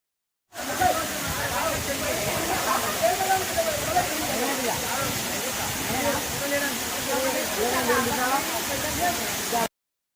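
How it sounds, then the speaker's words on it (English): A waterfall in South India roars as a loud, constant rush of falling water that is steady and close, with voices faintly mixed into the noise. "Finally, we reach the waterfalls."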